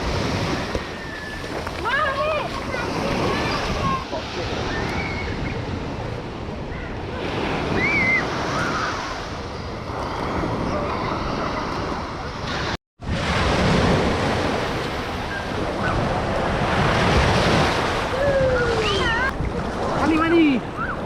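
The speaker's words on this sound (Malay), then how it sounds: "Ombak." Ocean surf rolling onto the sandy beach at Pantai Teluk Batik, a steady loud wash with wind buffeting the microphone and surges swelling and fading, and faint voices now and then beneath it.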